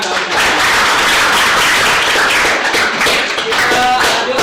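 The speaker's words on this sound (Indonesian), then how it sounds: "tepuk tangan dong" A group of participants in a school session clapping their hands together, a loud, dense burst of clapping that continues steadily for a few seconds with some talk mixed in.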